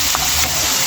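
Crushed garlic frying in a hot pan, a steady close sizzle with a couple of brief hissing bursts, no voices.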